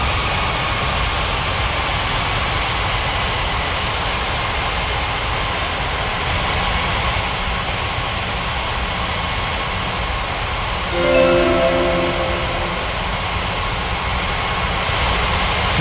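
An aircraft takes off from a runway in an air traffic control game, a loud, steady roaring rumble of engines sustained throughout, with a brief tonal swell near the end.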